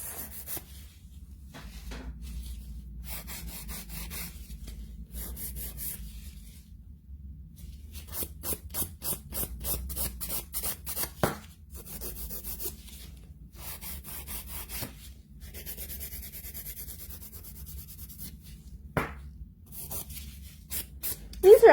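A nail file rasps in short bursts of back-and-forth strokes, refining the shape of a client's short builder-gel nails during a backfill at a nail salon, with gaps of quiet between passes.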